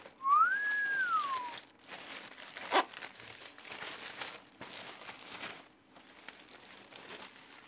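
A PS5 Slim console is unwrapped from its packaging. A brief whistled tune comes first, then close bursts of crinkling, rustling wrapping alternate with short quiet gaps.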